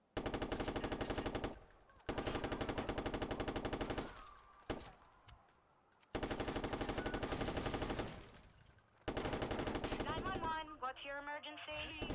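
Gunfire in the video game Watch Dogs comes as long, rapid automatic bursts broken by short pauses, loud and dense, with a faint game sound trailing at the end.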